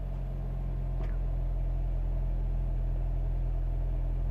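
A Peugeot 3008 with a 1.6 turbo petrol engine and an anti-pollution fault runs at a steady idle in sub-zero cold, a low constant rumble close by with a brief faint transient early on and no talking.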